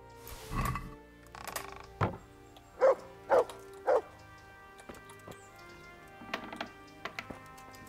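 A dog barks in a few short, sharp bursts in the medieval game Kingdom Come: Deliverance, three clear barks in quick succession in the middle, with softer yips and thuds before and after.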